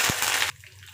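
Peanuts, urad dal and chana dal hitting hot oil with mustard seeds, cumin and curry leaves in a pan: a loud half-second sizzling hiss that quickly drops to a quieter crackle.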